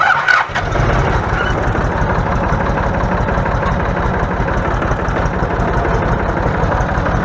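A Massey Ferguson 255 tractor's diesel engine cranks and catches with a quick burst, then settles into a loud, steady chugging idle close by.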